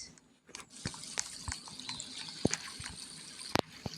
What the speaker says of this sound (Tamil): ஆனால் இங்கேருந்து தண்ணி வருது என்னன்னு தெரியல